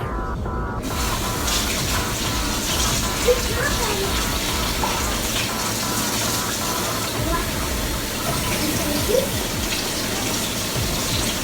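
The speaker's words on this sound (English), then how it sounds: "I have to wash the dishes." Loud, constant rush of tap water pouring into a sink during dishwashing, steady throughout with faint clinks and a voice now and then underneath.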